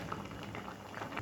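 Tempering spices hit hot oil in a kadai and set off a dense, close, bubbling sizzle that stays steady and loud throughout.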